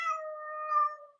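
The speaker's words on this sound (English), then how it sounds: "my cat's very upset about this video apparently" A house cat gives one drawn-out, tonal meow, close and clear, rising slightly near the end before fading, heard alone against a silent room.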